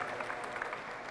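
Brief audience clapping at a Creative Commons Qatar launch event, a short, fairly quiet patter of applause from a crowd.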